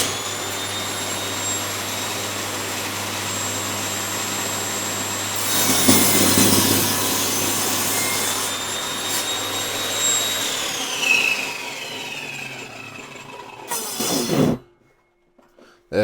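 A power saw cuts a thin strip off oak, a loud steady motor whine with rasping wood bite that rises at about five seconds, then spins down and stops abruptly near the end.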